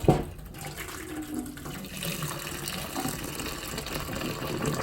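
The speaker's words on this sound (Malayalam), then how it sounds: "കുറച്ച് വെള്ളം തിളപ്പിച്ച് വെച്ചിട്ടുണ്ട്, അത് ഒഴിക്കുവാണ്" Hot boiled water pours into a clogged kitchen sink drain in a continuous, fairly loud gushing stream after a brief knock at the start.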